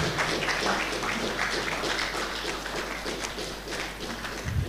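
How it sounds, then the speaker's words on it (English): Dense, sustained applause from a lecture audience fills the whole stretch, steady and loud with a brief swell at the end. "Another round of applause, please."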